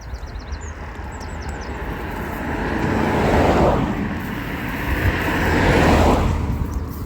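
Cars passing along a busy country road, broad engine and tyre rumble swelling as vehicles approach and pass, two main surges, with birdsong chirping faintly at the start.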